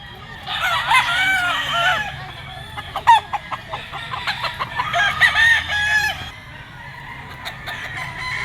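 Several roosters and chickens crow and cluck at a Grotto pet market stall of stag gamecocks, overlapping calls rising and falling in loud bursts against a busy background.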